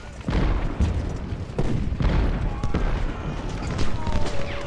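Cannon fire in the Civil War strategy game Ultimate General: Civil War, several heavy booms punctuating a steady roar of battle with scattered gunfire crackle throughout.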